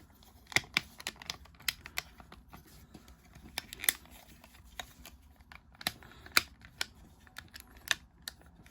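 Plastic parts of a Transformers Studio Series Blitzwing toy being folded and pegged together, giving a scattered series of small, sharp clicks and snaps at close range, irregularly spaced with quiet handling between them.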